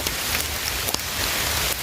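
Steady rain falling outdoors, a dense even hiss of drops hitting surfaces with a few sharper nearby spatters, loud and continuous with no voices.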